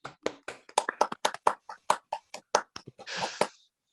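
A small group gives presenter Tim a brief round of applause: a sparse, uneven scatter of separate hand claps that builds into a short burst of clapping and then stops abruptly.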